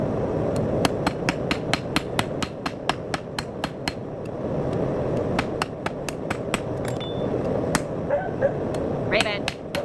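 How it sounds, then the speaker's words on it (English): A hammer strikes hot steel on an anvil in a rapid, regular rhythm of sharp ringing blows while forging a small skinner knife, pausing briefly, then resuming over a low background rumble. "But now it's just hammer work"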